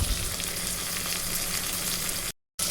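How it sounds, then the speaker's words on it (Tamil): A large ripe chopped tomato sizzles steadily in a pan of oil for fried-egg curry, a dense continuous frying hiss that cuts to silence just before the end. "இந்த ஸ்டேஜில் ஒரு பெரிய பழுத்த தக்காளியை அரிஞ்சு சேர்த்துக்கலாம். தக்காளி கரைஞ்சி வர அளவுக்கு வதக்கி எடுத்துக்குவோம்."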